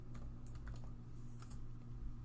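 Steady typing on a computer keyboard during an Arch Linux install at the command line, a quick irregular run of close keystrokes over a constant low hum.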